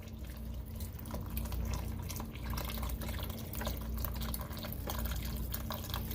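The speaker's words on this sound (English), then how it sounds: "you can add a little bit more chicken broth to kind of fill it up a little bit more" Chicken stock being poured into a pot of Italian beef to top it off, a steady close liquid pour and trickle running alone for several seconds.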